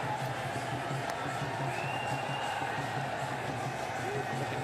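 Stadium crowd at a men's Junior World Cup field hockey match between Belgium and India, a steady dense roar and murmur from the stands, continuous and moderately loud throughout with no pauses.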